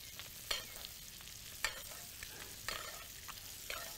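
Fish fries in a pan with a constant soft sizzle, punctuated every second or so by brief louder crackles and spatters.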